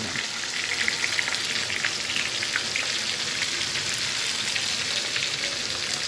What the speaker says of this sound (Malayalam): മീൻ വറുക്കാൻ